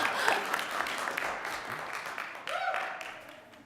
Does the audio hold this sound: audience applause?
yes